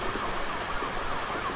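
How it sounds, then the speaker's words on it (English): Police sirens in a scary video game wail steadily at a moderate level, their rising and falling tones layered over a constant hiss of background noise with no talking. "I heard sirens."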